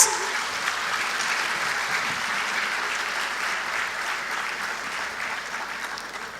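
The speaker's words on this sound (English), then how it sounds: "Could we all acknowledge their efforts with a huge round of applause?" Sustained audience applause fills a school auditorium after a theatre performance at a school cultural festival, a steady dense clapping wash that fades slightly toward the end.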